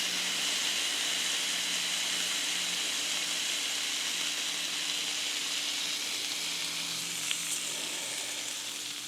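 A bacon pinwheel burger patty presses onto a hot surface and sizzles steadily, a bright even hiss of frying fat held for several seconds, with a small click near the end.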